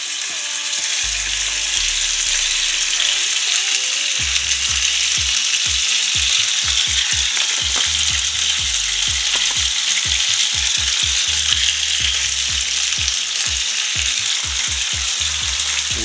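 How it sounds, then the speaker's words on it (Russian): Steady loud sizzling of chuck roll steaks frying in a very hot pan, with intermittent low thumps and scraping as pieces are placed and moved. "раскаляем теперь сковородку сильно и начинаем выкладывать стейки."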